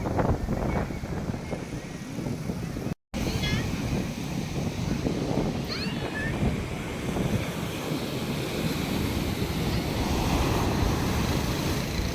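Sea waves wash steadily onto Madhavpur beach amid strong wind noise, a continuous loud roar with faint voices in the background.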